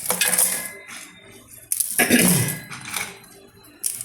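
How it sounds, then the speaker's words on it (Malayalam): Hard murukku pieces tipped into a steel mixer grinder jar, a few close, loud clattering rattles and clinks in separate bursts with short pauses between them. "നമ്മൾ ഈ മുറുക്കെല്ലാം കൂടെ മിക്സിയുടെ ജാറിലോട്ടിട്ട് പൊടിച്ചുകൊണ്ട് വരാം."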